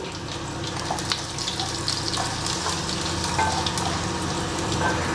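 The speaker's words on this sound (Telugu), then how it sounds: "నూనె కాగినాక తిరగమోతేద్దాం తిరగమోత దినుసులు వేసేసుకుందాం ఆవాలు శనగపప్పు మినపప్పు జీలకర్ర ఎండుమిర్చి" Tempering of mustard seeds, chana dal, urad dal, cumin and dried red chillies sputters in hot oil in a white pot, a continuous loud close sizzle with crackling pops throughout and no talk.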